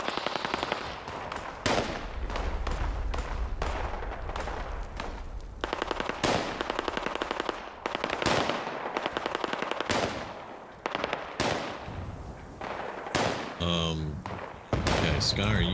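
Automatic gunfire in Fallout 76 rattles in repeated rapid bursts separated by short pauses, loud and close, while players talk over it.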